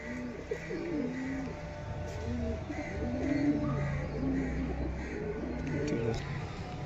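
Black-eyed black male double-ring pigeons coo repeatedly in low, rolling phrases, steady and close, with occasional talk in the background.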